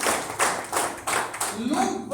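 A hall full of people at a business meeting breaks into loud applause, with several rhythmic surges of clapping that continue as a voice begins speaking over them.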